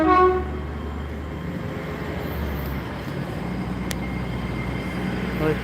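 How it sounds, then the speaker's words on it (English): A departing passenger train sounds a loud two-tone horn blast at the start, then rolls away with a steady low rumble and hiss of wheels on track, a faint sharp click partway through. "sound of a horn from the train"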